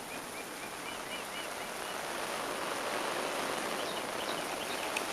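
Rain patters steadily on a tent rainfly during wet weather in Central Texas, a close, even hiss of drops on fabric with faint bird or insect calls in the background.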